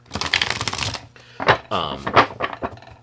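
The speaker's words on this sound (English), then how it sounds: "So you can see it's a decent shuffle." A large Queer Crow Death Magic tarot deck is riffle-shuffled for about a second, a quick, close, crisp burst of card flutter, followed by a person speaking.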